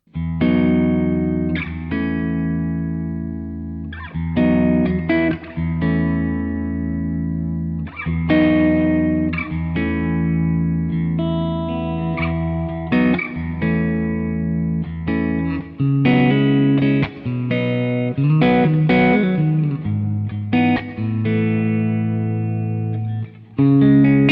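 An electric guitar plays chords and riffs through a Dr Z Z Wreck amplifier with effects pedals, its tone thick with distortion and modulation, loud and continuous with brief pauses.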